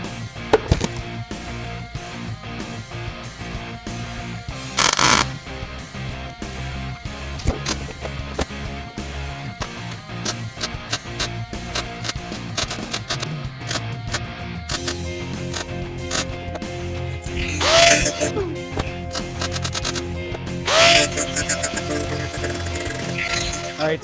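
Tack welding on a car firewall gives short sharp bursts of crackling and buzzing, close and loud, spread among clanks and shop noise across the clip.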